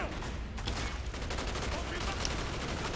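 Dense gunfire from a Call of Duty: Black Ops battle, a steady rattle of overlapping shots and automatic bursts filling the whole stretch under a busy game soundscape.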